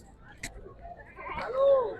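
Goats at the Memon Goth goat market give a short bleat at the end, rising over background crowd noise and a brief clatter.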